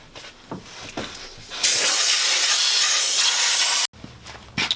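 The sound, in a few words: compressed air blowing out engine parts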